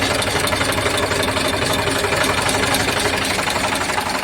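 An Eicher 368 tractor engine idles steadily up close, a continuous dense rumble with a knocking diesel texture that holds evenly throughout with no talk.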